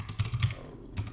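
Computer keyboard typing, a few quick soft key clicks in short bursts with a pause, fairly close and quiet, no talking.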